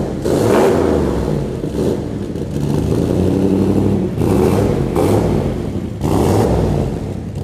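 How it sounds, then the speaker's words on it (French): An old-school big-block V8 revs loudly and close, with repeated blips of the throttle rising over a deep, rumbling idle, several times in succession. "C'est vraiment le gros V8 à l'ancienne et il sonne bien"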